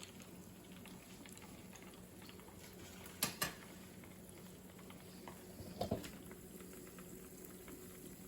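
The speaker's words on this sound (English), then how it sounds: "So we're gonna let that fry" A churro frying in hot oil after an earlier batch's oil wasn't hot enough, a faint, steady bubbling sizzle with a couple of sharp clicks and small pops over it, no voices.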